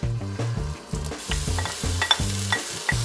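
Egg frying and being stirred in a pan to start Indonesian nasi goreng: a steady sizzle with rhythmic scraping stir strokes and occasional clinks, close and loud, with no talking.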